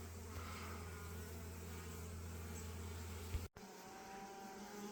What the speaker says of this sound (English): Bunch of emerging bees here.